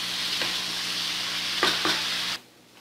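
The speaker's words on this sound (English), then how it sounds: "you're going to hear the sizzle on the bottom of the pot" Beans and peppers sizzle in a pot, a loud steady frying hiss with a few scraping stirs, then the sizzle drops off abruptly near the end.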